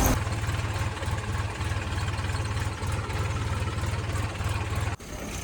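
A Massey Ferguson 7250 tractor engine idles close by with a steady low rumble and rhythmic chugging, briefly dipping near the end before continuing.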